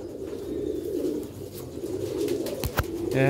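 Pigeons coo in a low, steady murmur throughout, close and continuous, with a couple of sharp knocks and a brief rustle near the end.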